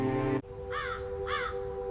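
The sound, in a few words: crow cawing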